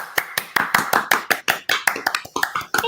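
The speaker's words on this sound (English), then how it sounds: "I hope the clapping came out okay on the recording." A small handful of people clapping over a video call, about a dozen distinct, close and fairly loud claps in an uneven rhythm, compressed by the call's microphone.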